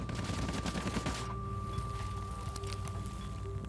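Rapid machine-gun fire from a fighter plane, dense bursts of shots over a constant aircraft engine drone. The shooting is heaviest at the start and thins into scattered cracks.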